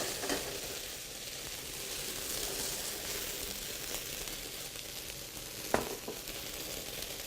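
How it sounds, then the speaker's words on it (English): Vodka flambéed in a hot pan gives a steady, fairly quiet sizzle and crackle with a brief sharp clack partway through and no voices. "A little bit of a flambe."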